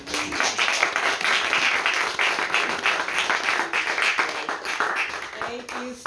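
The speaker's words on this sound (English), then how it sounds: "Let's give him another round of applause." Steady audience applause fills a poetry night after a reading, dense continuous clapping at even loudness throughout, with a few voices faintly mixed in.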